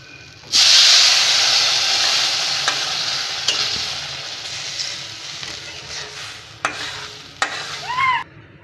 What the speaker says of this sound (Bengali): এবার এটা একটু নেড়ে চেড়ে আমি এর মধ্যে জল দিয়ে দেব অল্প